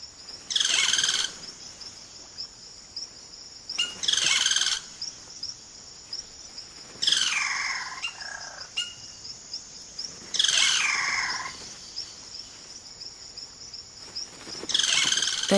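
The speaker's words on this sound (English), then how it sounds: "The cacique males now go about the important business of attracting a partner by puffing up their plumage and showing off their remarkable vocal range." Male caciques in the Amazon give loud, repeated calls in bursts every few seconds, mixing rich liquid notes and rasping phrases over a steady background of insects trilling, with no voices.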